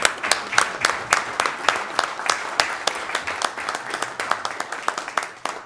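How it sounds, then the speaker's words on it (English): An audience at a fire protection district board meeting applauding, a dense, steady clatter of many hands clapping that continues throughout at moderate volume. "That deserves another applause."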